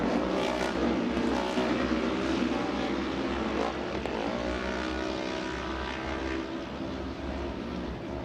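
Production turbo UTV race engines roar off the green-flag start toward turn 1, a dense, continuous drone of several engines with faint voices in the background.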